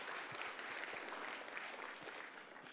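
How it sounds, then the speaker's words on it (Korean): A church congregation applauds during a Sunday service to congratulate a family on a birth. The clapping is soft, distant and continuous, with no talk over it. "우리 박수로 한번 축하하도록 하겠습니다"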